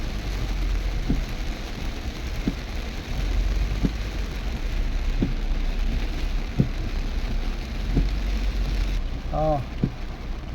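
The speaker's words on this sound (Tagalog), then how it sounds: "Grabe guys ang ulan dito." Heavy rain pours in a dense, steady hiss around a mini van on the road, with occasional dull knocks and a brief tonal chirp near the end.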